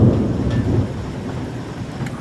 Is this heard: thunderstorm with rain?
yes